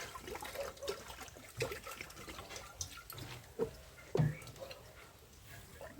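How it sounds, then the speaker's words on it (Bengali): Water poured a little at a time into a pot of boiled potato and chickpea dal cooking over a wood fire, giving soft intermittent splashes and trickles at close range against a low background, with no voices. "জল দিয়ে দিলাম একটু।"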